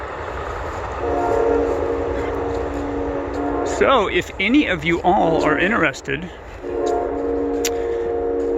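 A train horn blares in long harmonic blasts from mid-distance in Central Florida, sounding repeatedly over a steady rumble of passing rail cars while a person talks.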